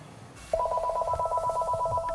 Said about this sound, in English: These days, the phone rings more often.